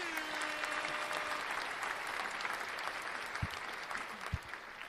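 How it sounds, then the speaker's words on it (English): Podcast guests clap together in a studio, a steady dense patter of applause that runs the whole time, fairly close, with a few louder slaps near the end and faint voices underneath. "Let's go ahead and clap that up."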